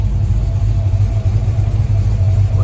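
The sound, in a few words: 1972 Chevy Highlander engine idling after starting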